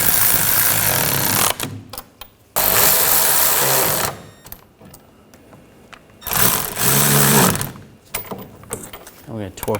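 A power tool drives in the bolts on a rear wheel bearing and hub assembly of a 2013–2019 Ford Escape, firing in several loud buzzing bursts separated by quieter gaps.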